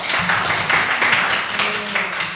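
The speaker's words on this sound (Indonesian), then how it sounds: "beri tepuk tangan untuk kelompok 1" A school class applauding a student group: a roomful of hands clapping in uneven bursts, fairly close and loud, no talking over it.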